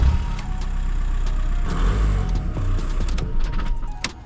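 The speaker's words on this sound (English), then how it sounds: "What I'm going to do is turn the engine on." A VW Golf TDI diesel engine is started and left running during an oil and filter service. It gives a steady, close mechanical rumble with light clatter.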